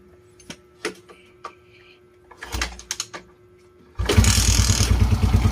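A project motorcycle fitted with a new carburetor, with several light clicks and clanks before the engine catches and starts, settling into a loud, steady, close idle.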